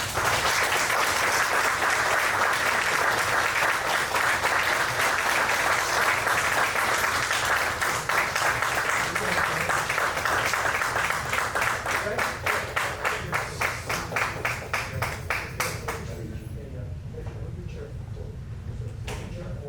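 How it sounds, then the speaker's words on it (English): Sustained audience applause fills the room at a Boy Scout Troop 507 Eagle Court of Honor, dense steady clapping from a crowd that thins and fades toward the end. "Let's give these men a round of applause as Eagle Scouts."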